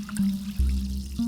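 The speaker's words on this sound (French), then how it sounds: "L'eau du robinet qui sort sous mes yeux" Tap water runs into a bathroom sink in a steady, close stream, with a low hollow drumming and gurgle that shifts in pitch as the flow changes.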